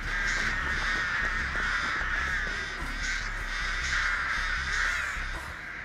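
Crows caw again and again in the horror video game Dead by Daylight, a harsh, fairly loud flock that keeps calling over a steady hum, with no talking.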